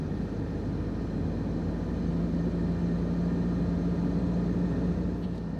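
A Toyota Innova Reborn diesel MPV cruising at about 40 to 60 km/h, its steady low engine drone and road rumble filling the cabin evenly and continuously with no talk.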